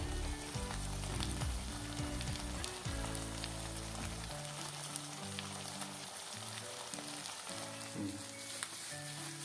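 Tingra fish fries in a pan with freshly added chopped tomatoes, giving a dense, even sizzle and crackle that runs throughout with faint low tones in the background.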